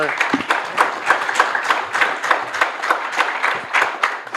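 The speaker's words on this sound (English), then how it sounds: "A round of applause to our..." Applause from the audience of a technology internships panel fills the room as a steady burst of clapping from many hands, fairly close and loud, lasting several seconds without talk.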